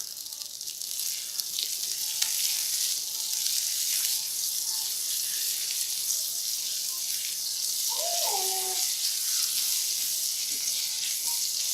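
Butter melts in a hot pan with browning garlic, giving a steady soft sizzle that runs throughout, with a brief clink of a utensil near the middle.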